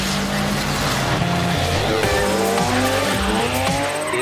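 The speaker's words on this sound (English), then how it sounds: "So now I'm cornering, so I control the car with the throttle and only now I begin to" A Nissan Juke Nismo powers through a corner, its engine note climbing steadily while the tires squeal loudly and continuously, close and prominent for a few seconds.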